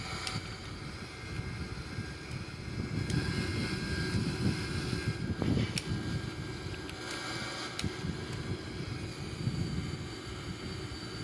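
Engines of an Airbus A340-313X climbing at takeoff go-around thrust in a flight simulator game make a continuous broad roaring drone, steady throughout with faint clicks on top and no speech.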